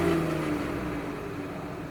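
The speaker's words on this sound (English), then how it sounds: "Just turn the car on." A BMW F30 340i, running map 2 on 93-octane fuel with an oil catch can fitted, gives a steady, fairly loud engine drone with a slight rev that eases off over two seconds, with no voices.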